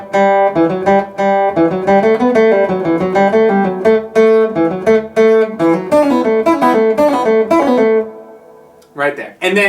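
Electric guitar plays the fast version of a song's lead part, a loud, close run of quick picked notes that ends in a brief trailing chord.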